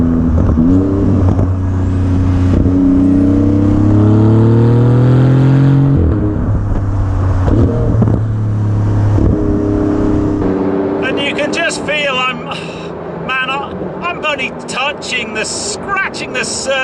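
A Porsche GT2 RS engine on a rainy day revs hard, its rising and falling tones climbing through the gears, loud and close, and then a voice talks over the fading engine.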